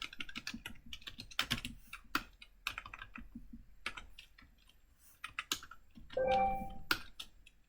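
Someone types C++ code on a computer keyboard, close up, in irregular bursts of crisp key clicks with brief pauses and no talking.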